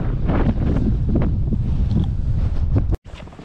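Steady light wind rushes and buffets the microphone on a snowy mountain trail near Zawoja, Poland, a continuous low roar that drops out abruptly near the end before resuming faintly.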